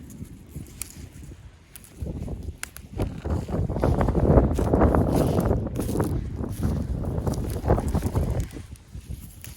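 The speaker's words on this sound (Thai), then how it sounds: "มีลมเนาะ" Wind blows outdoors in a field, buffeting the microphone in uneven, rumbling gusts that swell in the middle and ease toward the end, mixed with faint rustling.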